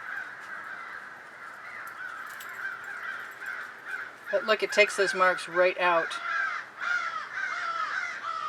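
Several crows caw in a loud burst of overlapping calls, with a person talking nearby before and after.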